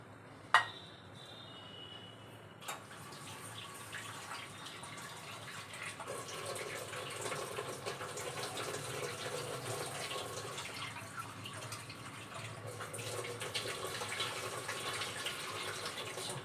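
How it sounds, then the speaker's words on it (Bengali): Rice for a vegetarian khichuri is washed under running water in a home kitchen, giving a soft, steady splash and trickle with a couple of brief knocks near the start, fairly faint throughout and with no talking. "ডালার চালটা ধুয়ে নিলাম"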